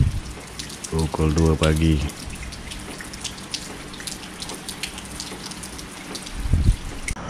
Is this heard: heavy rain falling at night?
yes